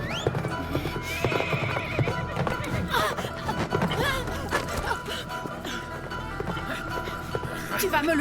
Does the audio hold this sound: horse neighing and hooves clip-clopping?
yes